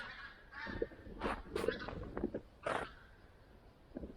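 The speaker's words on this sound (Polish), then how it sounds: "No gęsi wracają." Several wild geese honking in flight in irregular bursts, moderately distant, with no talking.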